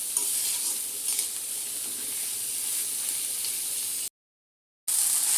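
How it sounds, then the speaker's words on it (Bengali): Onion and garlic sizzling in hot oil for a dried Bombay duck curry, a steady bright frying hiss with occasional stirring scrapes, briefly cut by a gap of silence. "ভালো করে একটু ভেজে নিব।"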